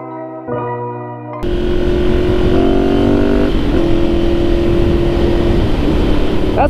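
Daily road traffic heard from a motorcycle on a commute, a steady loud engine drone with wind rush after a quieter start, a held tone shifting as speed changes.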